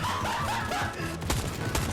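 Gunfire in Fortnite: a brief flurry of sharp shots and cracks mixed with game sounds over a short burst.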